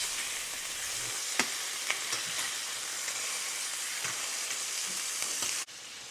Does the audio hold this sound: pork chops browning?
yes